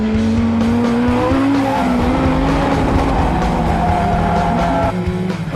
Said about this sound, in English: the Vortec-powered car.